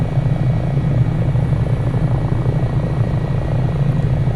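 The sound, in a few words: HH-65 Dolphin helicopter in video game Microsoft Flight Simulator 2024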